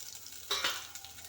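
Jackfruit dropped into hot ghee left from frying cashews and raisins, a brief burst of crackling sizzle rising over a low background hiss, close by.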